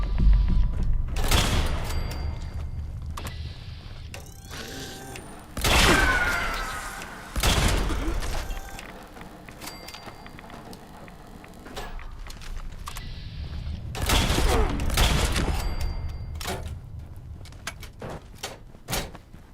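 Berserker Gauss Rifle fire in Fallout 76, several heavy booming shots spaced seconds apart, each a loud close blast with a ringing tail, separated by quieter stretches of clanks and ambient game noise.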